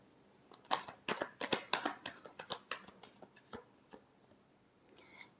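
Tarot cards are shuffled in a run of quick, crisp riffles and taps, close and fairly quiet, tapering off toward the end.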